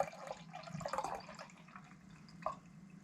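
Nitro espresso beer poured vigorously into a glass, a close splashing gush with a few drip-like bursts and gurgles fading into a softer fizzing trickle.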